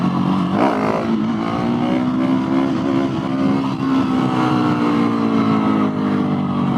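A Husqvarna 701SM supermoto motorcycle accelerates hard through the gears, its loud, close engine note climbing with each shift and carrying on steadily.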